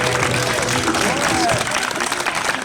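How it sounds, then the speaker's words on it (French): Applause from an audience at a school back-to-term weekend event, a continuous dense clapping wash that stays steady and fairly loud for the whole stretch, with some voices mixed in underneath. "Un tonnerre d'applaudissements."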